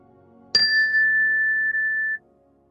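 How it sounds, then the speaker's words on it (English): A single meditation chime is struck once, ringing out clear and bright with a sustained metallic tone that hangs for well over a second before cutting off, alone in a quiet room. "We'll begin the meditation with a ring of the chime"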